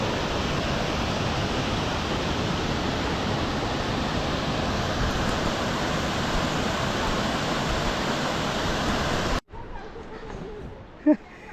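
Devkund waterfall roars as a dense, steady rush of falling water, loud and close, before cutting off abruptly near the end to quieter outdoor ambience with a brief sharp sound.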